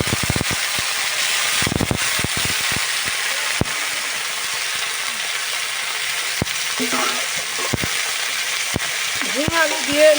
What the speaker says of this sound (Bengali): ঝিঙে আলু দিয়ে নাড়বো